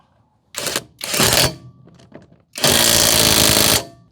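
Hanabi LJ2022 cordless impact wrench loosening a bolt, three loud rattling hammering bursts separated by short gaps, the last and longest running about a second, with faint handling clatter in between.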